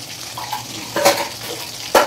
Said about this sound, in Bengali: এই দেখো এখন মাছ ভাজা চলছে রাত্রিবেলা